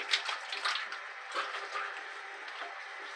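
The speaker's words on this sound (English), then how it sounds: "So just going to wet the face." Water splashing as hands wet a face before shaving, soft close splashes and drips in irregular bursts, faint and alone.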